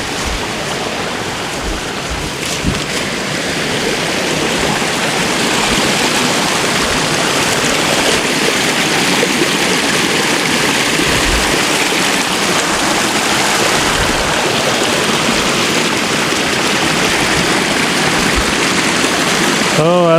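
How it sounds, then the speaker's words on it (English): A creek running through wooded California acreage with manzanita and green moss makes a steady, continuous broadband rush of flowing water. It stays close and even for the whole stretch, with no talk over it. "There's the creek."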